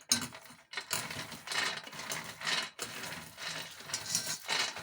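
Roasted peanuts being rubbed by hand to loosen their skins give dry, rustling scrapes in uneven bursts with brief pauses, fairly close and quiet.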